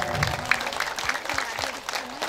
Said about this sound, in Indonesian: Boleh tepuk tangannya, Bu?